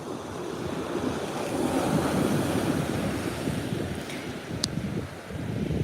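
Sea waves wash over sand at Caister Beach, a continuous loud rushing surf with wind buffeting the microphone, swelling and easing slightly without any speech.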